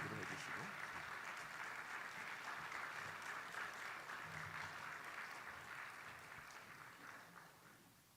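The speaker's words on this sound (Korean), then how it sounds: "우리 김정동 목사님 가장 뜨거운 박수와 환호성으로 모시겠습니다" A church congregation at a dawn revival service applauds and cheers to welcome a pastor. The sustained clapping fills the room and fades gradually toward the end.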